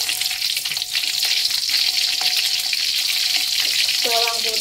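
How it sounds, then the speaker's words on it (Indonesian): Shallots fry in hot oil in a pan with a steady, dense sizzle. Near the end there are a few stirring clinks, and no one speaks. "goreng bawang merah"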